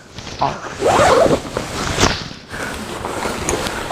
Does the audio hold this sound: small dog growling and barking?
no